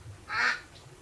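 A single short nasal quack from a Bayah duck on a farm, fairly faint and standing alone against a quiet background.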